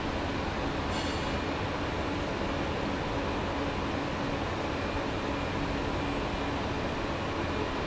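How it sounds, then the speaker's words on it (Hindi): The Amrit Bharat Express leaves Subedarganj railway station at night, heard from on board as a steady, loud rumble of rolling wheels and rushing air with one brief sharp click near the start, and no voices. "2:11 पे अपनी गाड़ी डिपार्ट कर रही है सूबेदारगंज रेलवे स्टेशन से"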